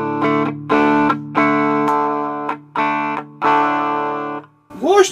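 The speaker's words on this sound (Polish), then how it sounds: "to jest Big Muff, to wprowadza w chuj szumów" Electric guitar run through a Big Muff fuzz pedal plays several thick, sustained distorted chords with short gaps between them, carrying a hissy noise floor, before a brief burst of voice at the end.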